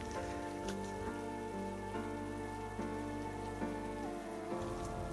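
Steady rain falls during a foggy mountain trek near Hiroshima, Japan, a constant patter heard under prominent melodic music with shifting notes throughout.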